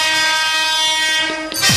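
A train horn blares loud and close, holding one steady sustained tone for nearly two seconds before a brief dip and a short, rising swell at the end.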